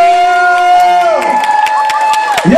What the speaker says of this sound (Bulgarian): Аплодисменти и за Стефан Стоилов от